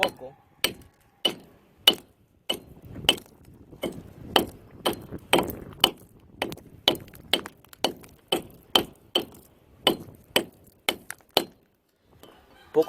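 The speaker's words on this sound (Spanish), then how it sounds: "estos golpes van desintegrando la roca" Sharp metallic hammer blows striking hard rock, breaking it down, about two per second in a steady rhythm, close and crisp with faint ringing between strikes.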